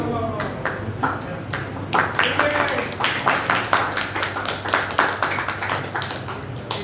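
Applause in a hall, an audience clapping in uneven bursts of sharp taps that grow steadier and rhythmic, with a voice speaking over the clapping.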